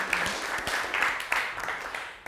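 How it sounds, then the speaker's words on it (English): Audience applause at a London IT peer-group daytime event fills the space, a dense, steady wash of many hands clapping from the room with no talk over it. "a round of applause for all of our partners in this room"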